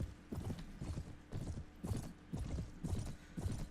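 Horses gallop in the Mount & Blade video game, their hoofbeats thudding in steady repeated bursts at close range with no voices.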